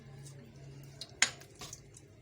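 Kadhi served from a pot into a dish, with a few faint scrapes and one sharper clink of a ladle or spoon against metal, quiet and brief.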